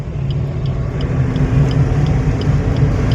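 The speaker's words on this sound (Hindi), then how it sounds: "थर्ड गियर दो आगे बीच में, छोड़ो क्लच। अब बढ़ाओ स्पीड साथ साथ" A car in third gear during a driving lesson drones steadily from inside the cabin, its engine hum loud and even with a slight rise in level as it gathers speed, no speech.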